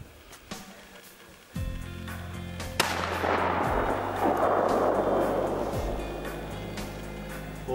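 Rifle shots fired from a bench at a target outdoors in Alaska, a few sharp loud cracks spaced apart, one much louder than the rest, each followed by a long rumbling echo.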